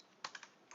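Four quick keystrokes on a computer keyboard while writing Rust code, close and crisp, spaced unevenly over under a second with a quiet background and no voice.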